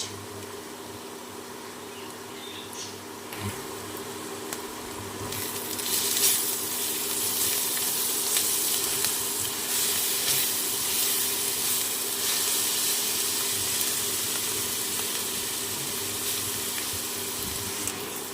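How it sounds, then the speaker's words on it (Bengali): Garlic paste hitting browned onions in hot oil gives a steady, loud hissing sizzle that swells noticeably after a few seconds and carries on unbroken, with no one talking. "পেঁয়াজ বাদামি করে ভেজে নিয়েছি দিয়ে দেবো রসুনের পেস্ট এক চামচ"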